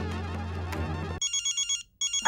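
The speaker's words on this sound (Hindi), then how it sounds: "अय्यर का फोन है।" A mobile phone ringtone plays a bright, electronic melody in repeated short pulses, starting abruptly after a burst of indoor background noise and pausing briefly before resuming.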